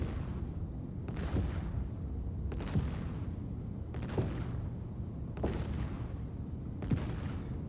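Gunfire striking a Tiburon vehicle in a video game comes as repeated bursts of heavy automatic fire, roughly every second and a half, over a constant rumbling roar.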